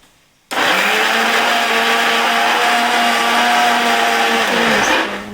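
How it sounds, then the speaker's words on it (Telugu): A kitchen mixer grinder starts abruptly and runs steadily, loud and close, blending onion, dry grated coconut, ginger-garlic paste and green chillies with water into a paste, its whirring motor holding a constant pitch for about five seconds. "ఉల్లిపాయ 1, ఎండు కొబ్బరి తురుము కొంచెం, అల్లం చిన్నులపాయ పేస్ట్ 1 స్పూన్, 2 పచ్చిమిర్చి మిక్సీకి వేసేసుకుందాం."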